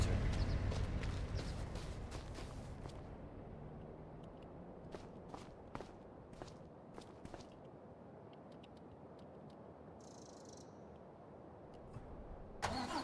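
An AI-driven car in the Farming Simulator 25 game passes by, its engine loud and close at first, then fading into a steady quieter drone, with light footstep-like taps scattered throughout.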